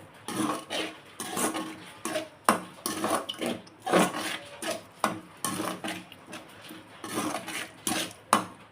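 A spoon steadily stirs and scrapes a thick carrot burfi mixture with sugar around a pan, making close, repeated rasping strokes roughly every half second with brief pauses between them.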